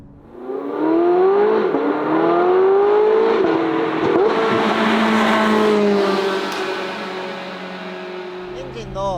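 A Porsche 918 Spyder hybrid supercar drives open-top, its engine climbing through revs in rising sweeps and shifting before easing off, loud and close.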